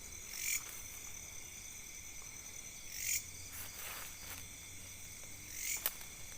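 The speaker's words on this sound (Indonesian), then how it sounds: "Hanya terdengar suara jangkrik dan macamnya itu" Steady high-pitched cricket chirping fills a quiet night in an orchard, with a few louder insect bursts rising briefly over the continuous trill.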